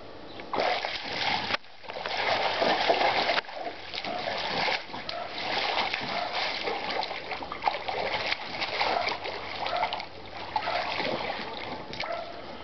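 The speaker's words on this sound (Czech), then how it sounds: "jsem ukazoval, jak bublá se ve vodě" Water bubbling and splashing in a backyard pool, continuous close splashes and gurgles with brief pauses, no speech.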